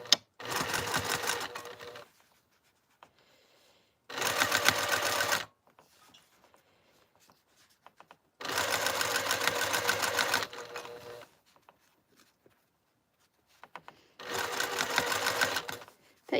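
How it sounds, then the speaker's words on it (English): A sewing machine runs in four separate bursts of about two seconds each while sewing a quarter-inch seam, with quiet gaps and small handling clicks between runs. "now we're going to sew the seam yet again at a 1/4 inch seam allowance"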